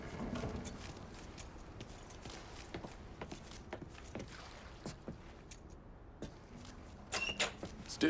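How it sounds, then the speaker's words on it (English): Keys jangling as Lincoln picks them up in Mafia III, scattered light metallic clinks and rattles over quiet ambience, growing louder near the end. "Lincoln, pick up the keys."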